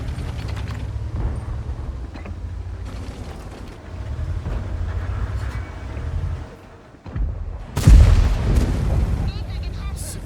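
Tank guns fire in World of Tanks, with heavy booming shots and rumbling engine noise. A loud blast lands near the end of the clip, and a commentator talks over the battle.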